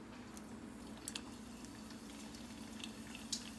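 Ramen noodle egg rolls deep frying in hot oil in a pot give off a faint, steady sizzling hiss with occasional soft pops and crackles.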